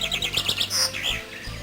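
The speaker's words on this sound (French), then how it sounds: "les chants des oiseaux résonnent de tous côtés" Blue tit birdsong, a series of bright, quick chirps and short trilled notes close by, followed by a brief pause and a few fainter calls.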